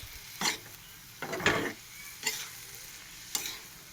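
Banana flower curry is stirred in a frying pan, four separate scraping strokes of a spatula over a low background sizzle, close and fairly quiet.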